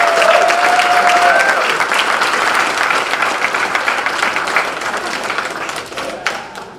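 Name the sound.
audience applause for hall of fame inductees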